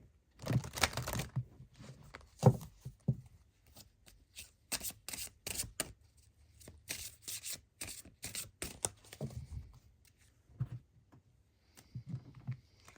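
Wicca oracle cards are shuffled by hand for a tarot reading, giving soft, papery riffling and rubbing bursts in uneven spurts, close and fairly quiet, with brief pauses between shuffles.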